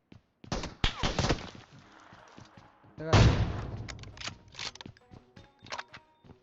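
SLR rifle fire in PUBG Mobile, several sharp loud shots in quick bursts with echoing tails, separated by brief gaps, a voice speaking faintly underneath.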